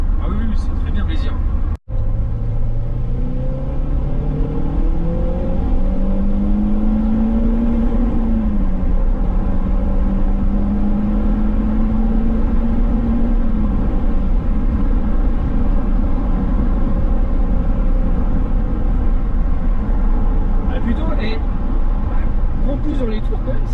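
Renault Clio 3 RS engine pulling through the revs while driving, a loud droning note rising and falling in pitch inside the cabin, with people talking over it.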